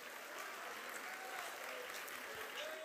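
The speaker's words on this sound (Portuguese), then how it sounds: "dá um aplauso ao Senhor" Congregation at a Portuguese-language church service clapping in praise to the Lord, a faint, steady patter of many hands heard from a distance, with some murmured voices faint beneath it.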